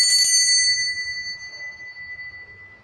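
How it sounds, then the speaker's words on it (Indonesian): A single bright bell strike rings out clearly, its metallic tone slowly fading away over a few seconds. "ditandai dengan lonceng tanda berbunyi ya"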